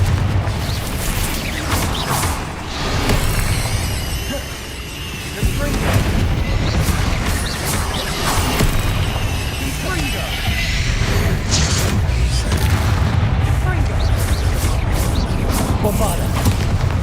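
Repeated booming blasts of the Confringo fire spell in Hogwarts Legacy, loud crashing explosions recurring over several seconds amid battle clatter, with a voice talking over parts of it.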